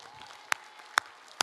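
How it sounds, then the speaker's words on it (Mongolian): Three sharp, separate claps ring out about half a second apart in a Christian Christmas church service, over a faint, quiet room background. "Бүгдээрээ чангаар алга ташлтыг өргөцгөөе."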